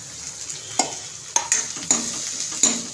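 Two chopped medium onions frying in oil on a medium flame, a steady sizzle with several sharp spoon scrapes and stirs against the pan, close and fairly loud.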